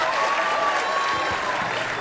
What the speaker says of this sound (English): Let's give another big round of applause for our beginning band